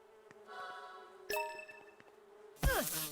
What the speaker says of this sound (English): I hear a beehive.